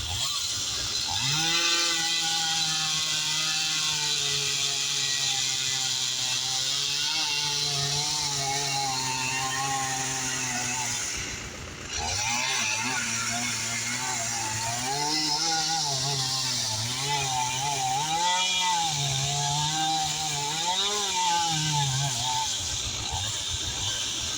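A small chainsaw engine drones steadily up close, briefly dropping off midway before revving again with rising and falling pitch as it cuts diseased and dying trees for firewood.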